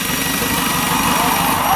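An Isuzu 4JX1 diesel engine runs steadily after reactor timing work, giving a loud, continuous rumble with no pauses.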